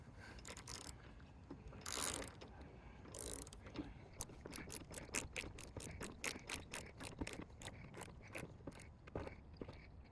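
A socket wrench ratchets rapidly in a steady clicking rhythm while tightening 10mm bolts on a solar panel mount on a 6th generation Toyota 4Runner, close and fairly quiet, with a few scraping handling sounds at the start.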